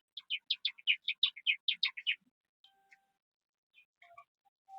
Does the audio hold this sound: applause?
no